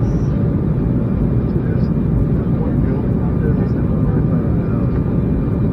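Steady, loud airliner cabin roar as a passenger jet descends toward Long Beach Airport, a continuous low rumble with a constant hum that holds unchanged throughout.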